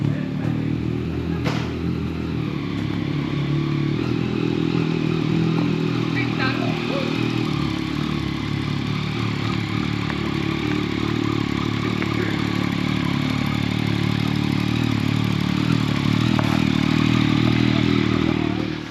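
A group of motorcycles heads out together on a day tour of the Tyrol mountains, their engines rumbling steadily and close by for the whole stretch, with light clatter and scraping mixed in.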